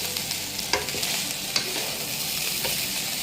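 Fried rice is stirred in a hot pan, a continuous sizzle broken by occasional scraping clicks of the spoon against the pan, close and steady with no voices.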